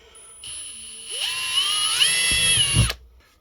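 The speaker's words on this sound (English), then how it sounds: "got an 1/8 inch bit chucked up in our drill here. We're just going to drill out our corners real quick" A power drill with a 1/8 inch bit whines steadily at high pitch, its tone climbing as it bites into the corners of a battery box, then cuts off abruptly.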